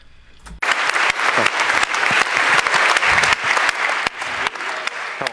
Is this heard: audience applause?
yes